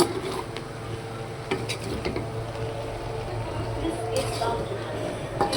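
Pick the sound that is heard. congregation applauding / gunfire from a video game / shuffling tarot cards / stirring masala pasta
stirring masala pasta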